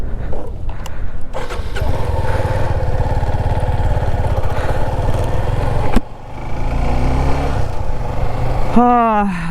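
A Suzuki V-Strom 250 SX motorcycle on a long road trip, its engine running steadily and close as it pulls away, with a brief dip and a rising rev at the end.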